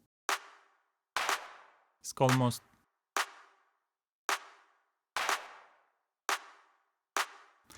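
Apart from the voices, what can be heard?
weird clap sample in an ethereal techno loop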